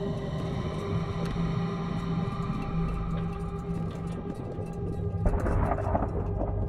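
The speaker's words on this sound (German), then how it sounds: "Gewitter" A thunderstorm in the horror game The Beast Inside, with a steady, heavy rumble and rain-like wash, swelling louder near the end.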